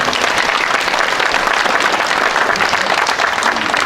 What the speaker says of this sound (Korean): 현승일 전 국민대 총장님 여러분 박수로 다시 한번 격려해 주십시오